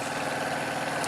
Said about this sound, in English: I wanted it to be that Harley-like sound.